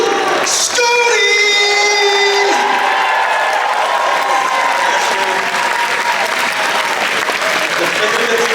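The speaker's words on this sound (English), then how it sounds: "make sure you give a great round of applause to" Tournament crowd at a classic Tetris semi-final applauding and cheering BlueScuti, a loud, sustained roar of clapping with whoops and yells, and voices calling out over it.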